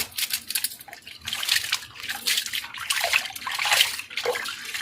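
Water poured over soapy hair to rinse it clean, a steady splashing and trickling stream that surges and eases in waves across the few seconds, close and fairly loud with no talk.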